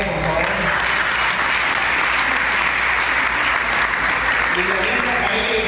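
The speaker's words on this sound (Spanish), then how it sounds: "Un fuerte aplauso para Carlos Rea, por favor" A crowd at a live event gives a loud, sustained round of applause for speaker Carlos Rea, dense continuous clapping with no break, close and even from start to finish.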